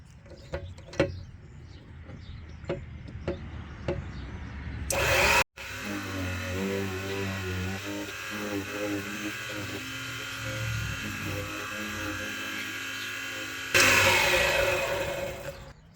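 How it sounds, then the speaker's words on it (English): A key cutting machine cuts a Ford F-150 key, whirring loudly in one sustained run of several seconds after some light clicks and handling sounds, then stopping abruptly before a second short burst near the end. "So flip this over and cut the other side."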